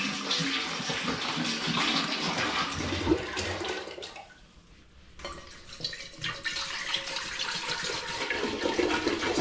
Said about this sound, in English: I'm going to put 5 litres of spring water into each one.